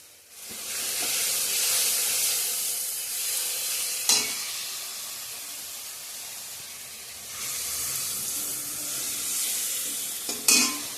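Paneer fries in a pan with a loud, continuous hissing sizzle, broken by a couple of brief clattering knocks near the middle and the end.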